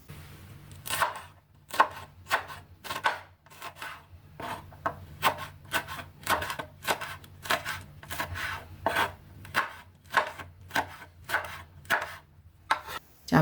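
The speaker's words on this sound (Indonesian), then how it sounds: "Cabai sudah dipotong-potong" Curly red chili peppers are chopped on a wooden board with a knife, a steady run of close, crisp cuts coming in quick rhythmic bursts with short pauses between.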